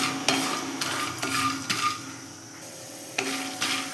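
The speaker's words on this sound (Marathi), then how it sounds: "आता हेही आपल्याला या तेलामध्ये चांगले थोडेसे असे लालसर होईपर्यंत चांगले तळून घ्यायचे आहेत" Sandge, sun-dried lentil dumplings, frying in oil over a medium gas flame while being stirred in a pan: repeated scraping, clinking strokes over a soft, steady sizzle, close by and with no talking.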